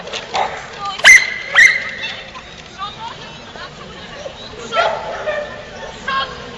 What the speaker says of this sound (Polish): No Tosia ma taki fajny szczek